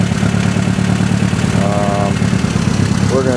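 A 1965 Case 430 tractor engine idles loudly and steadily with a low chugging drone, while a voice speaks briefly over it.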